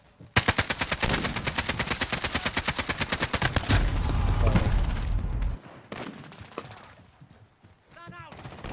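An AK-47 fires rapid, loud, evenly spaced automatic bursts in a video game, lasting several seconds before easing off, with sparse game effects and brief chatter at the end.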